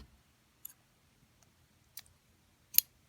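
Scissors snipping yarn on a Clover pom pom maker, heard as three or four sparse, faint, crisp clicks spread through an otherwise quiet moment.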